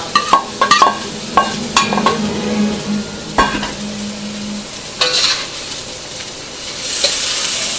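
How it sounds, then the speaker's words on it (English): Garlic and ginger frying with beef in a hot pan give a loud, steady sizzle under repeated close scrapes and clinks of a utensil stirring against the pan, with no talking. "I'm going to throw in the garlic and the ginger."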